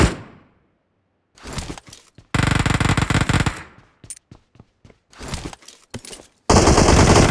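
Gunfire from the video game PUBG Mobile: loud bursts of automatic fire alternating with single sharp shots and brief silent gaps, ending in another sustained burst.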